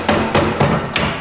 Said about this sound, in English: we can take a Wonder Bar and use this with our mallet and our hammer